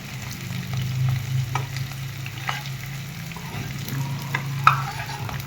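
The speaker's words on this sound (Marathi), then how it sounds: "आपल्याला चांगला तळला पाहिजे म्हणून थोडं थोडं टाकून तळून घ्यायचं आहे बघा" Pieces of edible gum (dink) frying in hot oil for winter laddoos, a steady close sizzle with occasional stirring scrapes and small pops, no voices.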